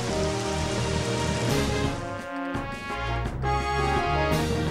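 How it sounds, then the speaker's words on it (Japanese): Heavy rain effect from the video game Pokémon Stadium Gold and Silver, a loud, steady downpour hiss running continuously over game music, briefly dipping before swelling again. "あーっと大雨になりました。"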